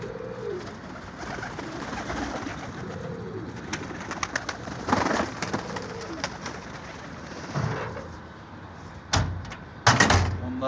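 Pigeons coo softly several times in low rounded calls, joined by scattered knocks, rustling and a few sharp bangs toward the end.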